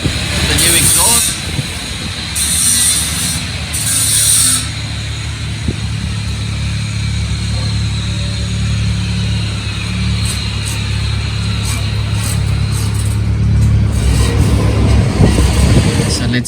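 A Chevrolet utility engine on its stock exhaust revs quietly, a low steady rumble swelling slightly, while someone talks over it throughout.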